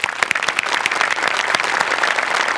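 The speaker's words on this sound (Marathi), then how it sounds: "एकदा जोरदार टाळ्या." Brisk, loud audience applause at a comedy show, a dense patter of close claps that stays strong throughout.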